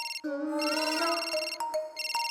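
A mobile phone rings in a cartoon, a melodic electronic ringtone with tones that slide and warble, then short repeated beeps, clear and fairly close with no speech.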